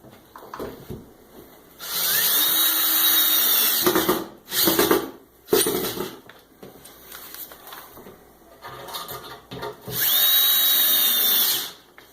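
A drill drives screws into a drywall panel lifted into place, three separate whirring bursts of one to two seconds each, close and loud, with short gaps and handling clatter between them.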